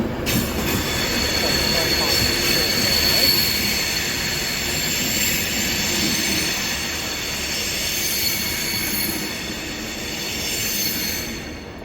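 Diesel train 156449 pulls out of Carlisle station bound for Newcastle, with a steady engine rumble, wheel squeal and a high whine held close and loud throughout.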